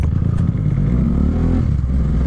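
A motorcycle rolling slowly over a rough, potholed dirt road, its engine a steady low rumble with some clatter and bumping from the uneven surface, close and continuous throughout.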